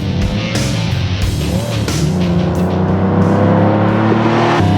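A 1988 classic car engine revs hard nearby, a loud throaty roar with rising and falling pitch as the throttle is blipped and held.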